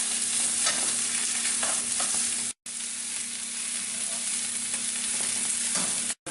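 Fat-rich sausages fry in a dry pan with no added oil, a steady close sizzle running throughout, broken by two brief drops to near-silence, with faint scraping as the links are turned.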